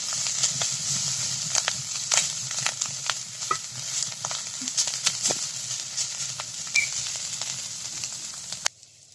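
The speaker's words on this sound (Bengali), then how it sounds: "আমরা চিংড়ি মাছগুলো আস্তে আস্তে নাড়াচাড়া করবো, যাতে ভেঙে গুঁড়ো হয়ে না যায়।" Prawns frying in a pan give a steady close sizzle, with frequent sharp scrapes and clicks as they are gently stirred, ending abruptly.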